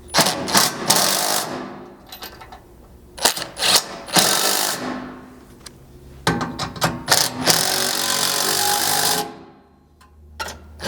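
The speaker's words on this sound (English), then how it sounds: "Now with your 9/16 socket and wrench, you can tighten all these up." Ratchet wrench with a 9/16 socket tightening 3/8 bolts on a Toyota Tundra rear strike bumper, heard as several close, loud bursts of rapid clicking separated by short pauses.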